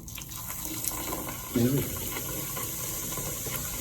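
Water runs steadily in a clogged sink during unclogging after baking soda and salt have been poured in, a continuous close wash of flowing water with a brief voice cutting in partway through.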